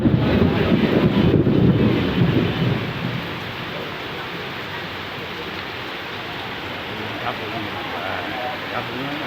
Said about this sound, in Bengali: মার্কেটে প্রচুর বৃষ্টি হচ্ছে, মার্কেটের বাইরে।